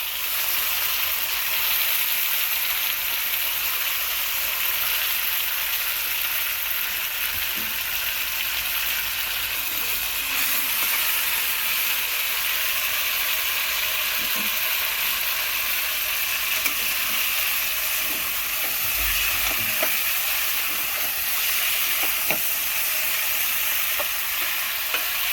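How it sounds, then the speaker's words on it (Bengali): Chicken pieces frying in a pan for a Bengali chicken roast and being turned, giving a loud continuous sizzle with occasional scrapes and knocks of the utensil, close and steady, with no voices. "এখানে ঘুরিয়ে ঘুরিয়ে ভাজতে হবে, ফ্রাই করতে হবে"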